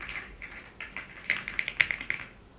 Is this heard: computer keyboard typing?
yes